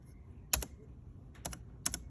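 A computer keyboard typed on in a few sparse pairs of crisp, close keystrokes separated by pauses, with a quiet background.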